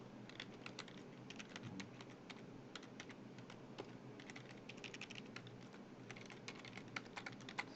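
Fast, light typing on a computer keyboard, a steady patter of soft key clicks at close range, faint and continuous with no talking.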